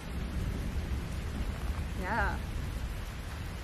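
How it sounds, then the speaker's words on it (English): Steady rain pours outdoors on a small farm while a low thunder rumble rolls underneath, with a short rooster-like call and a brief spoken word heard over the storm. "It's storming pretty good now"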